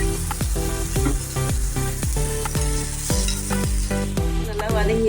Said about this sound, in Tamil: வெங்காயம், பச்சை மிளகாய் நல்லா வதங்கட்டும்.